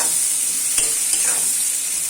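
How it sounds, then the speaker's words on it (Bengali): Onion and eggplant frying in a pan make a loud, close, continuous sizzle, with a couple of brief stirring scrapes heard alone. "এই পেঁয়াজ ভাজার সাথে সাথে বেগুনটা আমি দিয়ে দেবো ভাজা হচ্ছে"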